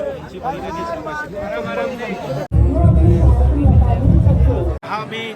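A dense crowd of pilgrims queuing at Kedarnath temple during the opening ceremony, a steady hubbub of overlapping voices and chatter that swells louder midway, with nearby talk throughout.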